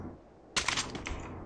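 A short burst of rapid automatic gunfire from a mobile shooter game played on an emulator, a quick rattling volley of sharp cracks that trails off after about half a second.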